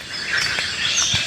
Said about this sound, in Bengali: পাখপাখালির যে শব্দ, ঘুঘু পাখির ডাক, শালিক পাখির যে সব কিচিরমিচির,